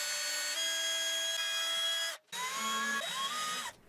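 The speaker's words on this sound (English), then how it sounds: "Then I could put the drawer back in and drill some mounting holes." A drill whines steadily as it bores mounting holes through a wooden cabinet drawer during woodworking, with two close, sustained bursts separated by a brief pause and the pitch shifting as the bit cuts.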